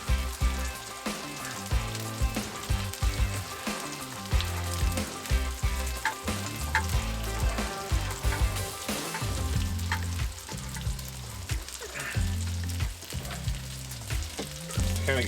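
Butter sizzles steadily on a Blackstone flat-top griddle, a loud continuous crackling hiss with rhythmic scraping or stirring pulses throughout, heard up close with no talking.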